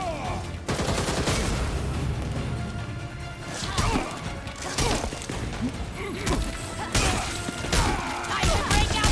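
Chaotic combat in Gotham Knights: bursts of gunfire mixed with crashes and heavy impacts, loud and continuous with sharp peaks throughout.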